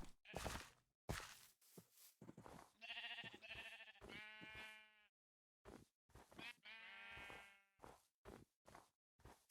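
Minecraft sheep bleat repeatedly in a Christmas multiplayer server, a series of loud, wavering game bleats with short gaps between them, heard close and clear without talk.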